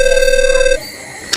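A telephone rings with a single loud, steady electronic tone that cuts off abruptly, followed by a quieter background hum and a brief click.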